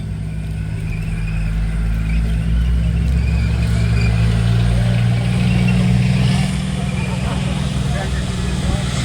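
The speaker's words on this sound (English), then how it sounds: "Maximus trying to get his M60 to go faster." An M60 tank drives during a tank weekend event, its engine a loud, steady low rumble and drone that swells and holds, with a faint higher whine over it.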